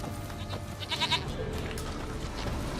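A goat in The Witcher 3 bleats once, a short wavering cry heard against a steady bed of outdoor game ambience, fairly quiet, with no talking.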